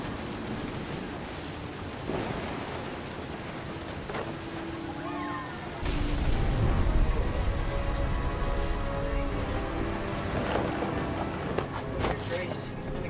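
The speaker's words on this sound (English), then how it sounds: "The thunder sounded much too close and full of angry power" In the video game What Remains of Edith Finch, steady heavy rain falls, and a deep rumble of thunder swells partway through. The sound holds at a constant wash, with no speech.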